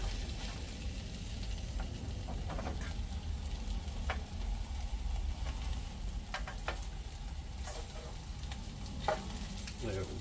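Bologna slices fry in a cast iron skillet with a steady, dense sizzle throughout. Occasional sharp pops and ticks break through, and the sound is close and continuous with no talking.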